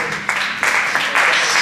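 Audience applause during a pastor's sermon, a short burst of many hands clapping that swells in steps and stays dense and fairly close.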